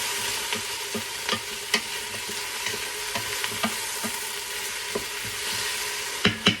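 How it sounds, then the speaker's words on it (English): Onions sautéing in an Instant Pot on the sauté setting: a steady bright sizzle, close and alone, broken by scattered scraping clicks of a spoon stirring, with a couple of sharper knocks near the end. "I'm going to give this another stir."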